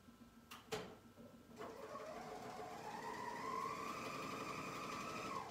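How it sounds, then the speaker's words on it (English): A Bernina sewing machine with a built-in knife stitches and trims a fabric edge, a couple of sharp clicks followed by a steady rising whir that settles into a continuous hum, close and moderately quiet. "my machine has the knife and it's going to trim that up nice and straight for me"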